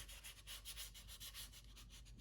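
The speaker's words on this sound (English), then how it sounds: "So I'll finish sanding these." Sandpaper rubs over a carved wooden loon decoy where epoxy sculpt meets the wood, a faint, rhythmic back-and-forth scratching in short even strokes, close up with no talking.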